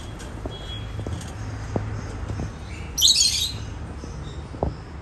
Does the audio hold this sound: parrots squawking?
yes